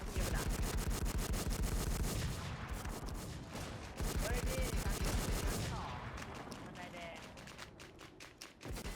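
Rapid bursts of automatic gunfire in a video game shooter, dense and loud, rattling almost continuously with brief pauses, as a voice talks over the shooting.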